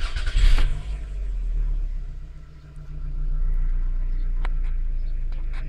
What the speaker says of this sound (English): I'm gonna turn the car on and have this car idle